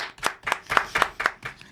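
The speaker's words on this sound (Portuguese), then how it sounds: "Uma salva de palmas" Studio audience applause on a Brazilian talk show, heard as a burst of sharp, fairly close hand claps in an uneven rhythm that stays steady for a couple of seconds.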